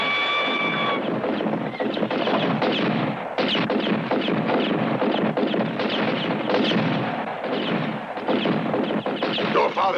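Dense gunfire from a spaghetti western battle at the Grand Canyon: loud, continuous volleys of shots and echoing bangs pile over one another for the whole stretch, with possible shouting buried in the din.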